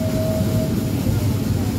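A Santa Cruz excursion train runs along the line on a loop around Bear Mountain, a steady low rumble and rolling clatter close by, with a faint tone fading out early.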